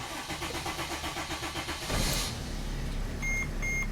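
A Dodge Sprinter van in limp mode with DPF ash accumulation is cranked with a rhythmic whirring starter, catches, and settles into a steady close idle, with dashboard beeps chiming near the end.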